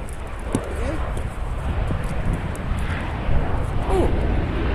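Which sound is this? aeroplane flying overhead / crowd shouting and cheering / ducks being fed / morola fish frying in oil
aeroplane flying overhead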